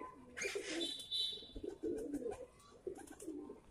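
A domestic flying pigeon coos in soft, low, repeated throaty calls, close by and fairly faint, with a flutter of wings at the start.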